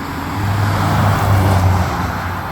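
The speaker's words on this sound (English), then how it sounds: "forgive the traffic noise. We live right on the road." Road traffic rolls steadily past a house that sits right on the road, a continuous low engine and tire rumble with a passing vehicle swelling slightly mid-way, no talking.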